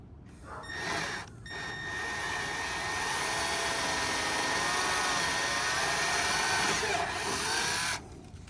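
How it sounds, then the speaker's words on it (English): A power drill boring a pilot hole in fiberglass for a hole saw during a thru-hull exhaust install on a 2020 Yamaha FX SVHO: a steady, high whining drill run for about seven seconds, close and loud, starting and stopping abruptly. "I'm gonna do a pilot hole for my hole saw"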